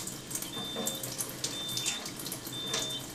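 Water streams steadily from an Enagic SD501 Kangen water ionizer into a sink, a continuous splashing flow with a few faint electronic tones over it, close and clear with no talking.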